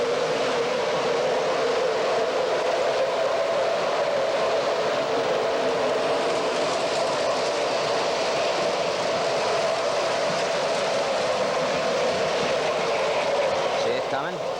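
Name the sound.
model Burlington Northern Santa Fe freight train running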